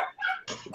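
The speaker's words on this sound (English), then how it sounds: "I think my dogs are barking." Short bursts of barking from dogs, two quick yelps in a row, fairly close and moderately loud, with no talking over them.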